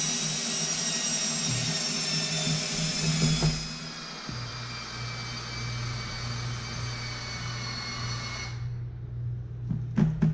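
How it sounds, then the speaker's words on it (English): A power drill bores through the bone of a seasoned steak at a barbecue, a steady loud whirring motor drone running for several seconds with a pitch shift midway, then cutting off near the end with a few brief clicks. "So Chris is drilling the bone there"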